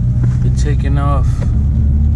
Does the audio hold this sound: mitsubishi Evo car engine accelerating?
yes